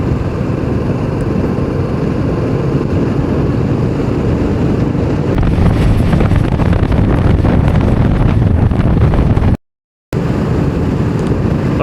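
Cool wind buffeting the microphone on a hill road through the Araku valley in Andhra Pradesh, a loud continuous rumbling roar with a brief dropout near the end.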